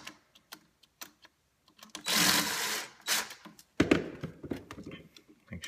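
Screwdriver tightening terminal screws on an electrical outlet, a series of close ticking and clicking sounds with a louder rattling burst in the middle, with no talking.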